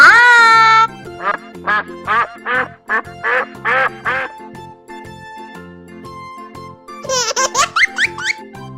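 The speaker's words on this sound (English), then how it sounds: "Duck." Cartoonish duck quacks in a rapid series of loud, nasal bursts, with a giggling laugh at the start and a flurry of quacks at the end.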